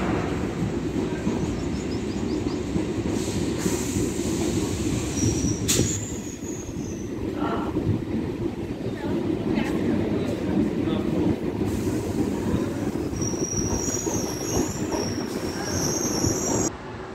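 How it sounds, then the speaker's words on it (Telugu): An MMTS local train pulls out of Bollaram station in Hyderabad with a steady loud rumble of wheels on rail, occasional high metallic squeals, and faint voices in the background. "Departed train from Bollaram."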